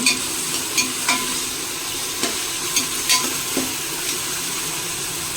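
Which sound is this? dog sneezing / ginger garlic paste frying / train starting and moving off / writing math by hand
ginger garlic paste frying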